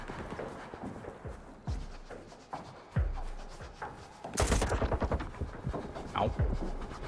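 Gunfire in the video game S.T.A.L.K.E.R. 2 from a weapon with heavy side-to-side recoil: a few separate sharp shots, then a loud rapid burst of fire, with game ambience between.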